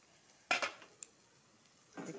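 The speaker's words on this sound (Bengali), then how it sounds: "ঢাকনাটা খুলে দেখব।" A metal lid comes off a pan of soybean and taro-leaf paturi steamed with water, giving a sharp clatter, a faint clink, then a soft rustle, close by with no talk.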